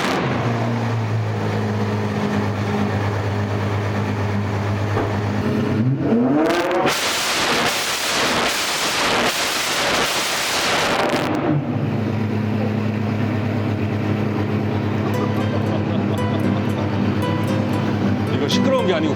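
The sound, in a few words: Apollo IE hypercar exhaust sound demonstration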